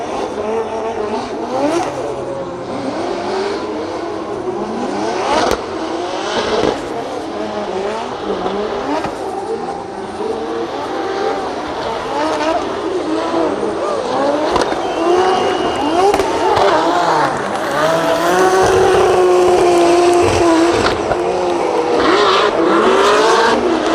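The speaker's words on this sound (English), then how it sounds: "Got some V8 sounds" V8 drift cars in practice at Drift Masters in Finland, engines revving hard and wailing up and down over crowd noise and tire squeal, with a voice talking intermittently throughout.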